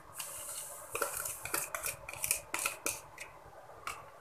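A spoon stirring sugar into warm water in a bowl for homemade pizza dough, with a run of close clinking taps against the dish in an irregular rhythm and no talk.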